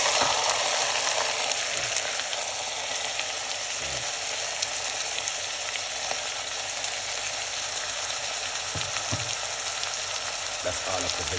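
Vegetables frying in olive oil in a hot pot, a steady loud sizzle throughout with occasional stirring knocks and no talking.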